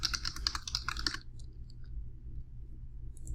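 Rapid typing on a computer keyboard, a close, dense run of clicks for about a second, then a few scattered keystrokes and near silence over a low room hum.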